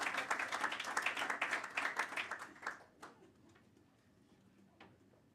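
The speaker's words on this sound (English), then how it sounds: "they really deserve a round of applause for wonderful entrance" A conference audience applauds the students' entrance, a full round of clapping for about three seconds, then thinning to a few scattered, fading claps.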